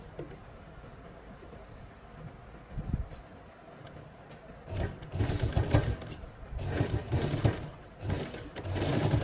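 An electric sewing machine stitches a palazzo, running in steady whirring bursts that start and stop, loudest toward the end, with no talking.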